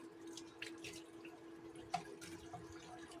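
Water splashes and trickles softly into a cooking pot for soup broth, with a few drips and gentle sloshing over a low background hum.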